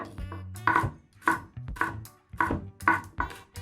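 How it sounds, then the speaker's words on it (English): A knife chops garlic on a cutting board for Thai stir-fried glass noodles, giving about six fairly evenly spaced, sharp thuds against a quiet background, close and moderately loud. "And now, finely chop it."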